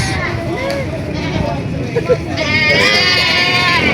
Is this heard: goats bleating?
yes